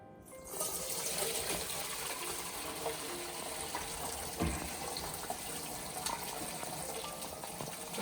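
Bone broth pouring from a very full pot, a continuous close gush of liquid splashing and streaming for several seconds at a steady, fairly loud level, without talking.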